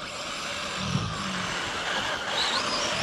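A Traxxas Rustler VXL RC car on 3S power races around a track, a continuous high motor whine and tire rush that rises and shifts in pitch as it speeds past, steady and fairly loud without speech.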